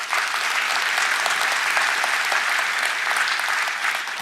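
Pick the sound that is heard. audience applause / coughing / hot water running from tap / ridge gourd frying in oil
audience applause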